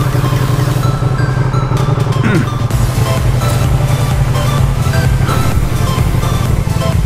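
A 2023 Ducati Panigale V2 Bayliss Edition sportbike being ridden, its engine droning loud and steady throughout with a low throbbing exhaust note and continuous wind roar, close and unbroken.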